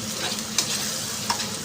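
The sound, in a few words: stirring spaghetti sauce in a pan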